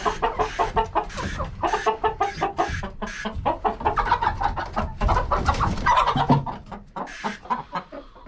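Many chickens cluck and murmur together on a crowded coop roost, a dense, continuous chorus of overlapping calls close by, with occasional sharper squawks.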